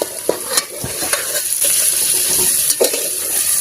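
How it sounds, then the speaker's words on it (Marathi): Brinjals sauté in a hot pan for a Marathi village-style recipe, giving a steady frying sizzle broken by several sharp scrapes and clinks of a spoon stirring against the pan. "आता आपल्याला वांगे घालून घ्यायचे वांगे छान परतून घ्यायची"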